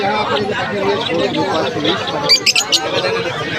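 Budgerigars at a Krishnanagar bird and poultry market give a brief burst of high chirps, surfacing for a moment over constant crowd chatter and nearby talk.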